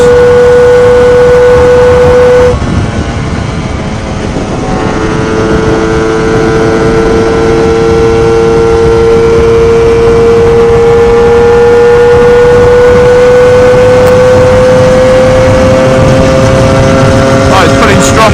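A Lambretta Targa Twin 275cc piston-ported scooter engine on a road test, revving loud and close with a steady buzzing note that climbs through the rev range after a brief drop in pitch, continuous and dominant throughout.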